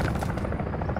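Attack helicopters in Call of Duty Modern Warfare III drone with a steady, dense rotor thrum, held at an even loudness for a short burst amid battle noise.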